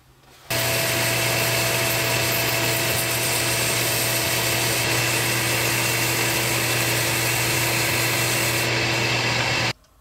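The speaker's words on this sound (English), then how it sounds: "we're gonna start sanding our turning. And we're gonna start it at 80 grit" A steady, loud abrasive rasp of 80-grit sandpaper against spinning wood, continuous for several seconds over the whine of a running lathe, then stopping abruptly.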